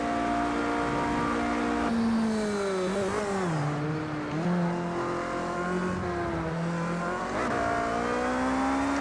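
A race car engine drones loud and close through a hot lap of Circuit de la Sarthe in Project Cars 2, its pitch climbing through the gears, then dipping and rising again as it brakes and accelerates, with no voices.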